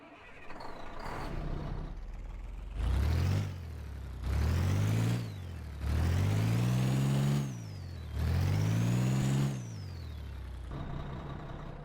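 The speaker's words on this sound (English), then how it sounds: "I'll let you listen to the engine." Simulated vehicle engine in Garry's Mod for a Kodiak build, idling then revving quickly four times in rising and falling whines, each rev climbing sharply in pitch and dropping back to idle, loud and close with no talk.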